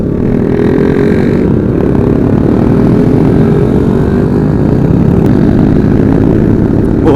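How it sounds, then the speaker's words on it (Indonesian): Loud big-bore exhausts from a busy crowd of motorcycles, including a Yamaha R15 and a Kawasaki KLX, on a street in Makassar, roar as a steady, dense engine drone throughout, with no talking. "Knalpotnya besar-besar semua suaranya."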